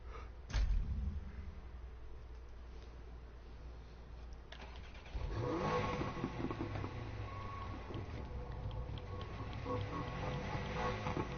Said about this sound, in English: But somewhere in there is actually a flat 6 from a Porsche.